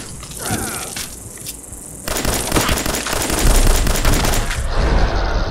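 Gunfire in Fallout 4 run on a low-end Intel HD PC: dense, continuous rapid shots and thumping impacts, loud and close, thickening into heavier sustained firing partway through, with no speech.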